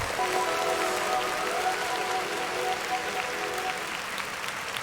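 An audience applauding continuously, a dense, steady patter of clapping that fills the whole stretch at a moderate level.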